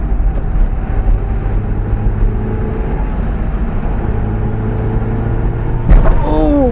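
A Mitsubishi Galant VR4 climbs the tight hairpins and loose gravel of King's Mountain hillclimb, its engine droning steadily with wind rumble before a sharp rising rev near the end.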